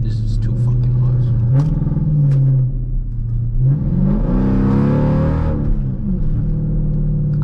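A straight-piped 2013 Dodge Durango R/T with no catalytic converters revs in loud, rising surges between steadier engine drone, with voices talking over it.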